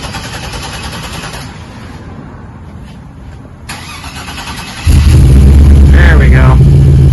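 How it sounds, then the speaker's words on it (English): A 1936 Cadillac fitted with an LS3 V8 and Magnaflow mufflers cranks and fires, settling from a quiet background into a loud, deep, steady idle rumble close by. "This LS3 should sound pretty good."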